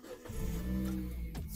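A Mazda 3 engine cranks and catches, settling into a low, steady idle rumble close by.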